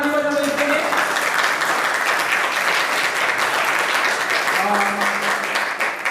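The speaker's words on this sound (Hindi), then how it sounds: "जोरदार ताली बजाओ इसके लिए" A school audience claps loudly for a student quiz contestant at a general knowledge competition, steady dense applause with a voice speaking briefly over it at the start and again near the end.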